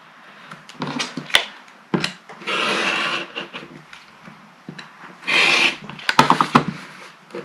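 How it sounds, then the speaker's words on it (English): A rotary cutter trims a fabric quilt block corner along a ruler, making short, close, hissing scrapes in two distinct passes amid quiet handling clicks and taps. "And just make a nice trim on this corner."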